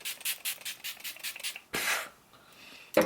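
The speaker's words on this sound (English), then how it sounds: "Fixing Mist. I just spray that all over and hold my hair back." A rapid series of short hissing bursts of makeup fixing mist, then a longer breathy mist spray after a brief pause, close and moderately loud.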